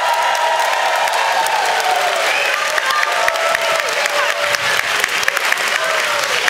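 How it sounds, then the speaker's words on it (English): Parents in a school production audience applaud and cheer their children, loud sustained clapping with scattered whoops and cheers rising over it throughout. "the biggest round of applause has to go your children"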